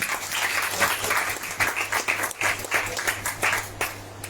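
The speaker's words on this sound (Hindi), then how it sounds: "आइए ताली बजाएंगे जोरदार" A church congregation at a Sunday service claps loudly and steadily, a dense wash of applause lasting several seconds with irregular swells and no talking over it.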